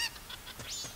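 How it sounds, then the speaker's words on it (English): A chicken in The Legend of Zelda: Majora's Mask squawks in a brief burst of sharp, honking cries, loud and close, with no talk over it. "Even the chicken's flipping out"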